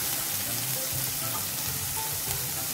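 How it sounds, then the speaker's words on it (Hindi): Vegetables fry in oil in a pan for Manchurian gravy, a loud, steady, close sizzle running throughout with faint stirring scrapes and no talk. "दो चम्मच के करीब तेल, 1 कटोरी हमने ये सारे सब्जियों को रखा हुआ था, इसमें हम बनाएंगे मंचूरियन की ग्रेवी।"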